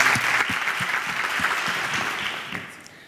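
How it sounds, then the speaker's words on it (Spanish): A workshop audience applauds to welcome a speaker, a dense sustained round of clapping in a room with distinct nearby hand claps, tapering off toward the end. "Les pido que los recibamos con un aplauso y que disfruten de allá."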